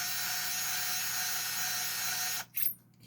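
Lee hand case trimmer shaving the end of a .303 British rifle case, a steady close high-pitched whirring rasp that stops abruptly, followed by a short scrape.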